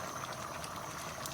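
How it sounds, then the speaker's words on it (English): Okazi soup with grilled fish and egusi simmers in a pot, giving off a steady, soft bubbling hiss that stays even throughout at low volume, with no voices. "leave it to boil a little longer"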